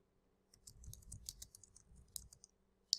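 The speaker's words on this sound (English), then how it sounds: "And I type in grunt build." Quick, light clicks of a computer keyboard as a short command is typed, a soft burst of keystrokes over about two seconds ending in one sharper final key press, close and quiet.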